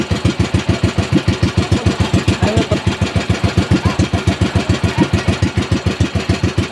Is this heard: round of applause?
no